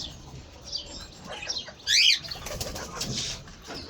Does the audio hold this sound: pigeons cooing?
yes